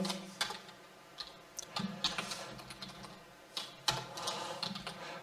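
HTML code being typed on a computer keyboard: bursts of quick, light key clicks in irregular runs with short pauses, close and fairly quiet.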